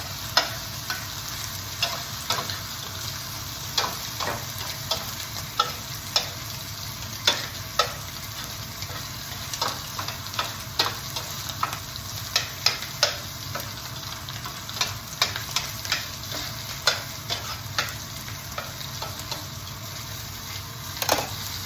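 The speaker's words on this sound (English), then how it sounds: "Same time, you want to move the onions around." Onions frying and browning in a pan, a soft continuous sizzle punctuated by frequent light taps and scrapes as they are moved around, close and without talk.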